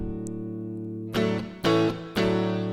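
A clean Stratocaster electric guitar on the neck pickup rings out a sustained chord, then three more strummed chords follow in a slow, even rhythm, warm and unamplified-sounding.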